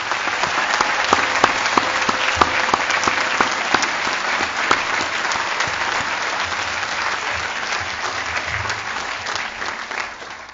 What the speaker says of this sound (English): let's give another round of applause to the form of 2018